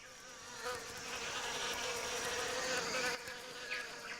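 Wasps buzz continuously near an ant nest, a steady insect drone with faint wingbeat fluctuations, close and moderately quiet, without any talking.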